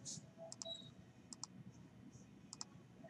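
Computer mouse clicks while placing points in Revit, a few sharp, quiet, isolated clicks in small pairs over a faint room background.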